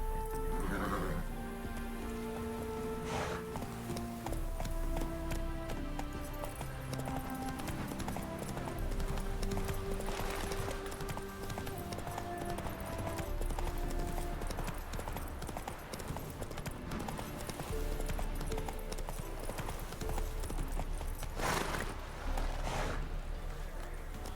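A horse gallops with rapid, rhythmic clip-clop hoofbeats in the Witcher 3 video game, steady and close under a continuous layer of game music, with occasional neighs and a brief voice.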